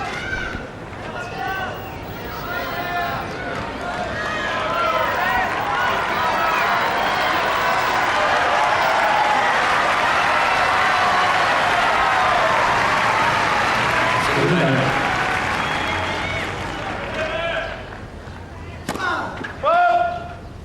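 At the 2006 Monte Carlo Masters tennis final between Nadal and Federer, a large stadium crowd cheers and applauds in a long, steady roar that swells and then fades, with a commentator talking over it.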